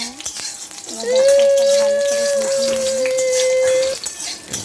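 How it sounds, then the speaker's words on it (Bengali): Whole cumin and panch phoron spices fry in oil in a wok, a soft sizzle with clinking and stirring, overlaid partway by a long steady tonal hum close by. "পাঁচফোড়নগুলো ভালো করে ভাজা করে নিলাম"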